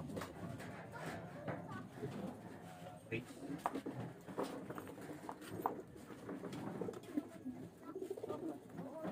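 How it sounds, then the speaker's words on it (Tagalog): Racing pigeons coo softly in a loft on loading day before an invitational race, a steady low murmur of overlapping calls with faint wing flutters and patter, while someone talks over them. "Ayan, mga ibon."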